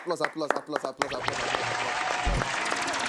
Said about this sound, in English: first of all, applause.